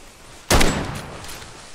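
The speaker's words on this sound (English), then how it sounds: "I hear the gunshots." A single sharp gunshot in a Bigfoot-hunting video game bursts out loud and close, its echo trailing off over a low background hum.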